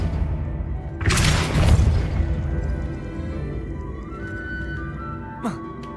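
A Depulso force spell cast in the video game Hogwarts Legacy: one loud whooshing blast that swells for about a second and then fades, followed by a short thump, over steady game ambience.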